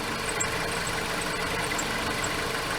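A car engine idles with a steady low rumble and slight vibration, continuous and fairly close, with faint high ticks above the drone; the engine is due for valve cover and oil pan gaskets.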